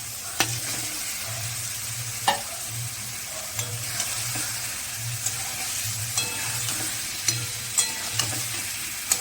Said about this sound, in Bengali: মশলাটা ভালোভাবে কষে গেছে এবার মাছগুলো দিয়ে দেবো